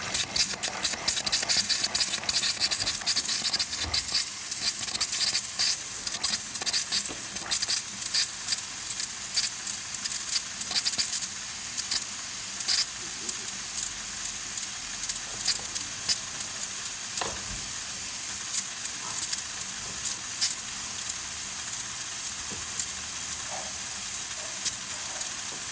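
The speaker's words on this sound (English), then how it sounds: "That's pretty average steam for this kind of machine." A steady, loud steam hiss from a leaking Isomac espresso machine steam wand runs throughout, broadband and continuous, with occasional sputtering crackles like frothing milk.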